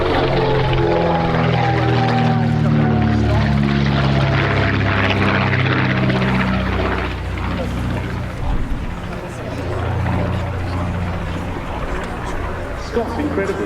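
A de Havilland DH.88 Comet twin-engined aircraft flies past at an air show, its loud propeller drone rising and falling in pitch as it passes, then fading, under a commentator's continuous talk.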